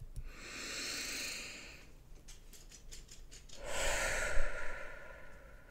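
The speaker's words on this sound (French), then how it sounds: "vous allez inspirer fortement et souffler très fortement en relâchant les épaules" A person breathing during a kotodama meditation, with a strong, hissing inhale followed after a pause by a forceful, rushing exhale, both close and loud with no speech.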